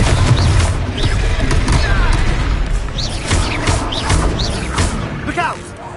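A Confringo blasting curse explodes in the Hogwarts video game, a loud booming blast over dense layered game effects and crackling debris, with voices calling out through it.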